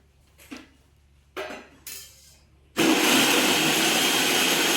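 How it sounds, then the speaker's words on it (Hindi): A kitchen grinder whirs into a loud, continuous roar as it crushes dry fruits and walnuts, after a few short knocks and clatters of handling beforehand. "अब पीसने लग गए हैं सारे ड्राई फ्रूट"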